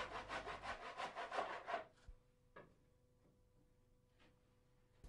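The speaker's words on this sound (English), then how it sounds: "Always a good idea to use a tenon saw when cutting small decorative timbers like this." A tenon saw cuts through a small decorative timber bead with about a dozen quick rhythmic strokes, close and clear, then stops, leaving a couple of light knocks in a quiet room.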